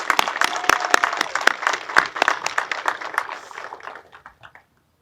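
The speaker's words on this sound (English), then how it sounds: "Bailey Trout, give her an extra round of applause." Applause from an audience at a county public safety recognition and memorial service, with dense clapping and a few sharp claps standing out, fading out over the last second.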